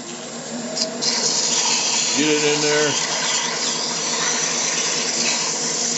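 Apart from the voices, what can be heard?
sanding with sandpaper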